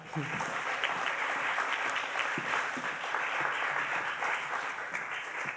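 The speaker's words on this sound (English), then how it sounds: "give a round of applause for Officer Sabrina Brown." Sustained audience applause, a dense, steady wash of clapping from a large crowd that holds throughout, with voices faintly mixed in.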